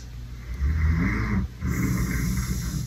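A person snores loudly and close by, with two deep, rasping inhaled snores separated by a short pause.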